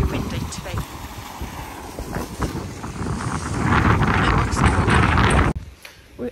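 Strong wind in the White Desert, Egypt, buffets the microphone in rough, gusty rumbles that build louder toward the end before cutting off abruptly, with faint voices mixed underneath.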